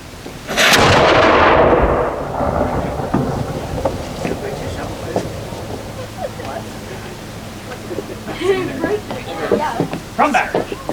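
A historical artillery cannon fires once at a Fort Loudoun garrison demonstration, a single loud boom that rolls off into a long rumbling echo, followed by quiet outdoor murmur and distant voices.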